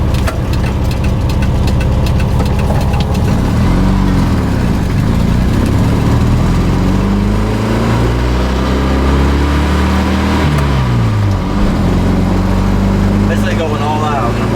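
Classic VW Super Beetle air-cooled engine revving hard and climbing through the gears up to fourth. Loud and close throughout, with pitch rising and dropping at each shift while someone talks over it.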